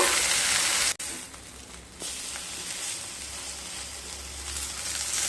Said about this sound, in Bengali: দুটো সাইড খুব ভালোভাবে ভেজে নেব।